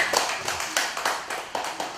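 A small group in a coaching certification class claps in short uneven bursts, the hand claps sharp and close together for a couple of seconds.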